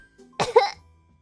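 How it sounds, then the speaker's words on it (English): A single short cough, close and fairly quiet, in an otherwise silent moment. "I have a little cough."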